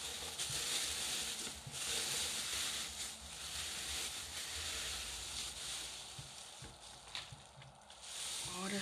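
Crinkly packaging rustles and crackles continuously as a cardboard box is unpacked, close to the mic, with uneven bursts of crackle and scraping throughout.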